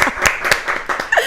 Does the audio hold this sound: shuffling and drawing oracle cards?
no